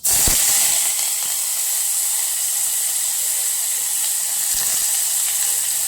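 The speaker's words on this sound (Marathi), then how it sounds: "तेल गरम झालेलं आहे. तर कांदा टाकूया." Onion dropped into hot oil for a village-style drumstick curry, a sudden loud sizzle that settles into a steady hissing fry.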